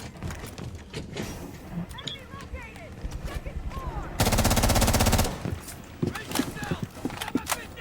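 Video game gunfire from a tactical shooter rattles in a dense automatic burst of about a second, surrounded by scattered single shots, footsteps and ambient game effects, while a voice talks throughout.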